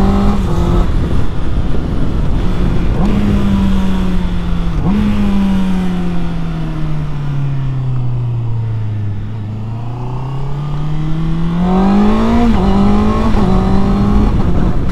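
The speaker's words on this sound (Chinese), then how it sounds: "刚刚是我在做一个无离合的进档" A 2021 Honda CB650R motorcycle revs hard and loud, pitch sweeping up and down across repeated gears, with clutchless upshifts marked by quick drops in engine note before climbing again.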